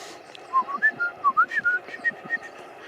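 A person whistles a quick series of short, sliding notes, fairly close, with a faint hiss of background noise underneath.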